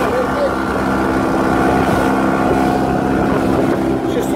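A Suzuki F15 15 hp outboard motor pushes a small boat at full throttle into the wind, a loud, steady engine drone with water and wind noise held constant throughout.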